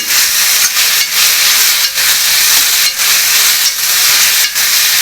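Onion and tomato fry in hot oil with a loud, dense, continuous sizzle close by, broken by a few brief dips, with no talk.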